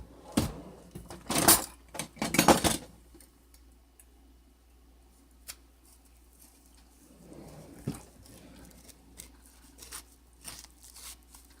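A knife cuts a ripe avocado in half for a keto egg salad with sriracha, giving a few close, crisp cutting and scraping bursts in the first three seconds, then a quiet stretch with faint scattered ticks.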